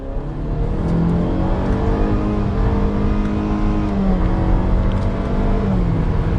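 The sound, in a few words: 2022 Cadillac XT4 AWD Sport accelerating at full throttle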